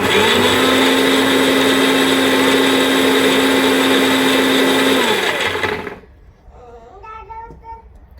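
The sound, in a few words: mixer grinding fresh coconut green chutney finer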